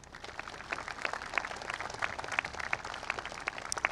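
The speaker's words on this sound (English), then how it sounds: "A round of applause for them, please." Applause for faculty and staff at a 2023 graduation ceremony, fairly faint and somewhat distant, with scattered individual claps standing out over a thin crowd patter.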